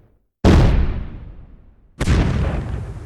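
Two fireworks shells burst loudly and close, the first blast decaying over about a second and a half before a second sharp boom follows, with no voices.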